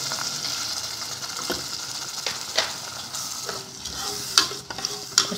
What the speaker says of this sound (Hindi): और चम्मच चलाते जाना और इसको इतना पकाना है कि ये गाढ़ा हो जाए